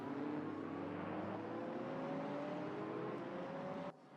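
A Ferrari race car in Gran Turismo howls along a circuit, its engine tone climbing steadily with rising revs before cutting off abruptly near the end.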